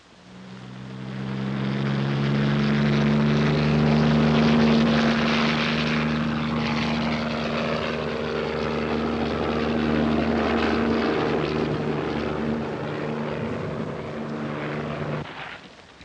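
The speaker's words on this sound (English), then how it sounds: "Plane is coming." A propeller airplane drones overhead, its engine swelling quickly to a steady roar that holds for several seconds before cutting off at the end.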